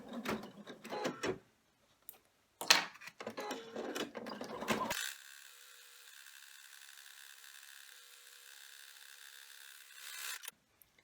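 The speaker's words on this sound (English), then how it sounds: "The first thing that we need to do is the placement stitch" An embroidery machine sews a placement stitch for an in-the-hoop vinyl pouch, first in quick rattling, stuttering bursts, then settling into a steady, even mechanical hum that runs for several seconds before stopping.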